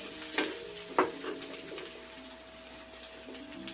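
Green chillies sauté in a pan for a village-style coconut chutney, giving a soft, steady sizzle with a few light stirring scrapes, close and quiet, with no voices.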